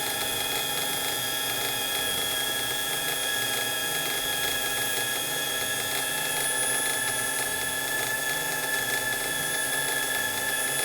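A timer alarm sounds during a fuel distributor test for a Mercedes W124 300CE-24, a loud, steady electronic tone held throughout over a continuous mechanical hum, with no speech.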